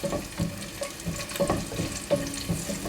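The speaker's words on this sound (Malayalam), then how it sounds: "ഈ വെളുത്തുള്ളി നമുക്ക് നന്നായിട്ടൊന്ന് ഇളക്കി കൊടുത്ത് ഒരു ലൈറ്റ് ബ്രൗൺ നിറമാകുന്നവരെ ഈ വെളുത്തുള്ളി നമുക്കൊന്ന് മൂപ്പിച്ചെടുക്കാം" Garlic frying in olive oil crackles and sizzles up close while a spoon stirs it, giving regular scraping knocks at roughly half-second intervals under a continuous frying hiss, with no voices.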